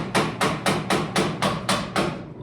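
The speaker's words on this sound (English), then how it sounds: "Leather hammer to the rescue." Seven even, sharp blows from a leather hammer ring out close up at a steady pace during a vehicle build, each strike a crisp thud with a short decay.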